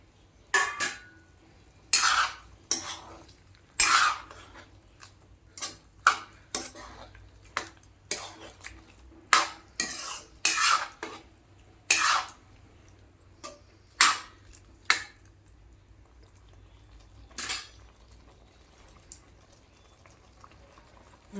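Soya chunks tipped into bubbling curry gravy and stirred in a pot, heard as a series of sharp metallic spoon clinks and scrapes at irregular intervals over a quiet background, close and fairly crisp.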